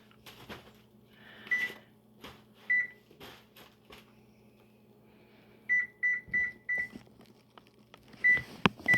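Microwave oven running with its door shut and timer set for a cooking session, a steady low hum under repeated sharp beeps and clunks of kitchen handling nearby.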